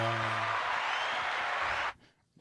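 A live studio audience claps in a steady, dense wash of applause that fills the room, then cuts off abruptly near the end, leaving near silence.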